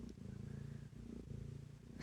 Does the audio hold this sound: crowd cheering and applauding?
no